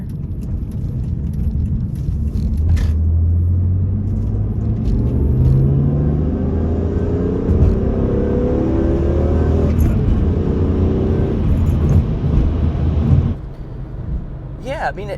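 A stock BMW E46 M3 with its factory exhaust drives along, the engine a loud, sustained low drone rising in pitch as it accelerates through gears, then easing off near the end; someone talks over it.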